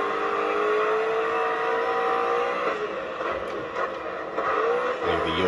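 An F1 race car in a racing video game speeds past with a steady, loud engine whine that shifts in pitch as it goes by, then another burst of revving near the end.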